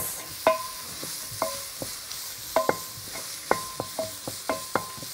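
Chopped onions fry in hot oil in a pan, giving a steady close sizzle punctuated by sharp scraping clicks of a spoon stirring against the metal, with no talking.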